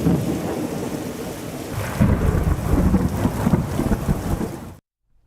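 Thunder rumbles low and heavy through steady monsoon rain, the downpour loud and continuous with a swelling roll midway before cutting off abruptly.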